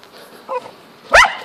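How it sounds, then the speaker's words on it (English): A dog gives a small yip followed by a single sharp bark nearby while hunting rats, over a faint background hum. "by the dog barking."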